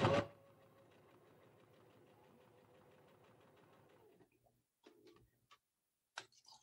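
A sewing machine stitching a shirt runs in a steady, fast, quiet ticking hum for about four seconds after a sharp start, then stops, leaving a few faint clicks and handling noises.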